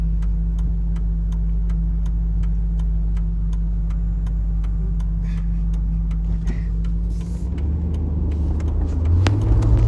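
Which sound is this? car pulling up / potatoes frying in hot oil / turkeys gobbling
car pulling up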